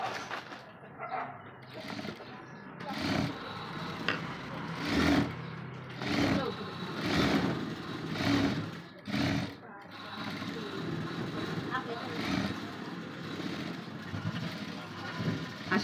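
An electric sewing machine stitches a strip onto a jacket in bursts, its rapid whirring rising and stopping repeatedly at close range, while someone talks between and over the runs.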